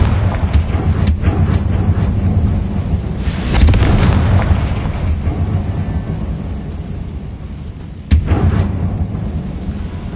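Confringo fire spell blasts in Hogwarts Legacy, booming impacts over a rumbling low roar: a heavy burst near the middle and another sharp blast toward the end, with smaller cracks scattered between.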